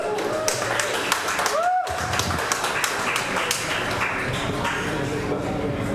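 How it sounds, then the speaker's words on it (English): An audience claps for contestants at a chilli eating championship, scattered applause of many hands under talk and crowd noise, steady for several seconds at moderate distance. "Give them a round of applause"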